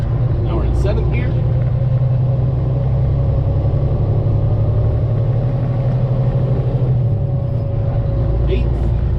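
A truck with a 10-speed manual transmission cruises in seventh gear, its engine giving a steady, loud low drone and rumble from inside the cab, with only faint clicks above it.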